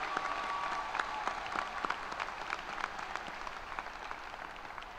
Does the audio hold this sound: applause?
yes